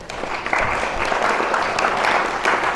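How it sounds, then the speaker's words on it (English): Rotary Club of Buffalo audience members give veterans a round of applause, a brief burst of dense, close clapping filling the room evenly from start to finish. "Let's give them a round of applause."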